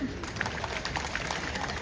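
An audience at a cooperative aid-distribution event claps for officials as they are introduced, a faint, distant, steady patter of many hands running throughout.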